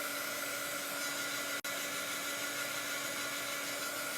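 A hair dryer runs steadily, drying chalk paste on a menu board: a constant close whir with a faint hum, cut by one very brief dropout partway through, with no talking.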